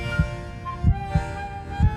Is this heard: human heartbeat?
yes